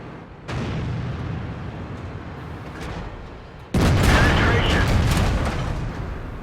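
Tank fire in World of Tanks around an IS-7 heavy tank: a low rumbling battle ambience, then a sudden loud cannon blast that booms and slowly decays.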